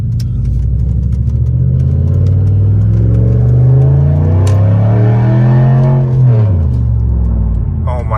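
A straight-piped Pontiac Bonneville GXP engine revs loud and close, its raspy exhaust note rising and falling through several throttle blips over a steady idle rumble.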